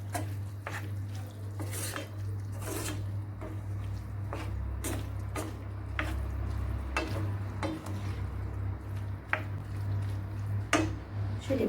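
A meat and tomato dish seasoned with salt and chili flakes is stirred in a pan, with repeated scraping strokes at an irregular rhythm over a steady low hum and soft sizzle, close and moderately loud.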